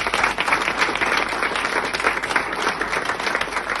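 Audience applause at a live comedy show, loud, dense clapping from a large crowd sustained throughout.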